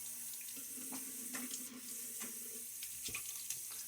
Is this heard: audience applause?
no